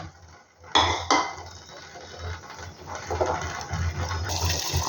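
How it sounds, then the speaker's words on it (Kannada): Green peas are stirred into boiling water in a metal pot, with a couple of sharp clanks of utensil on pot followed by splashing, bubbling and clattering, close up and without talk. "ಈಗ ನೀರು ಕುದೀತಿದೆ. ಈಗ ನಾನು ಅವನ್ನ ಬಟಾಣಿನ ಮಿಕ್ಸ್ ಮಾಡ್ಕೊತೀನಿ."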